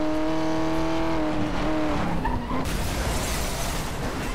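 Racing car in Need for Speed Most Wanted (2012) accelerating hard, its engine note rising and falling through gear changes before dissolving into a loud rushing roar of tires and wind, with no voices over it.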